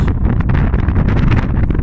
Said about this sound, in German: Und hier ist es echt sehr windig